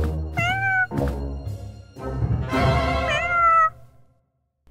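An animated cartoon cat gives several clear, drawn-out meows in a row, close and fairly loud, with short pauses between calls and no talk over them.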